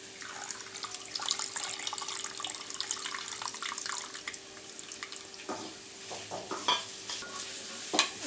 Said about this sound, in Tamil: இப்போ நம்ம புளி ஊற்றிக்கலாம்